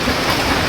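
Steady rain pours during roofing work, a dense continuous hiss close by with no pauses and no talk.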